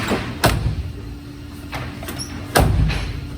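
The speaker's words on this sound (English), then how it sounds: "We just cut everything out and the door still shuts." A stripped Cadillac's car door shuts in a garage, with a sharp slam near the start and a second, heavier slam later, plus a softer knock between them.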